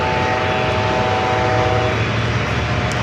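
An American Airlines Boeing 737-800 bound for Chicago at San Diego airport, loud, close, continuous engine roar with a steady tonal whine riding over the rumble and no voices.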